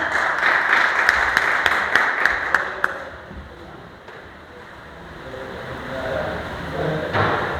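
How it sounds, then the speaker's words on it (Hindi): An audience at an Indian workplace safety day program claps in a burst of applause for about three seconds, loud and dense, before fading into quieter room noise. "जोरदार तालियां।"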